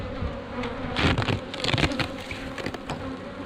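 Honeybees drone loudly around a strong hive in a commercial apiary being fed pollen substitute and readied for almond pollination, with a dense steady buzz that swells and bursts as bees fly past.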